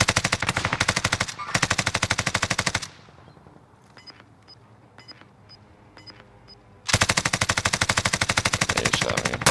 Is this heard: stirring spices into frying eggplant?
no